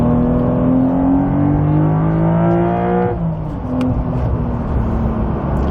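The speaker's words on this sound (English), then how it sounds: "The induction noise, the cabin noise." From inside the cabin of a Porsche 992 Carrera T sports car, the engine and induction noise climb steadily in pitch under acceleration, drop off as it shifts, then hum on at a lower drone with road noise.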